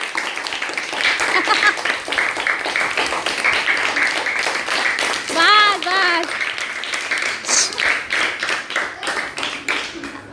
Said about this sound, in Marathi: मनस्वी साठी टाळ्या वाजवा जोरात